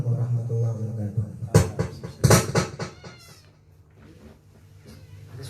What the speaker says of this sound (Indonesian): Sini, kira ada suara kucing.